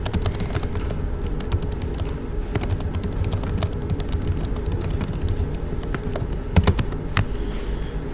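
Rapid typing on a computer keyboard while making a git commit, with dense, irregular key clicks and taps close by, continuous for several seconds with no talking.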